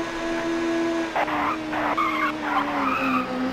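A touring race car in the TOCA Touring Car Championship video game at Thruxton skids on grass, tires scrubbing in rough bursts over a steady, droning engine note.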